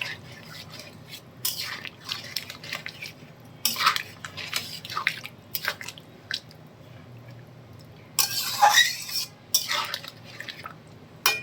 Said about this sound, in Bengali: এবার আমি পনিরগুলো এর মধ্যে মিশিয়ে দিচ্ছি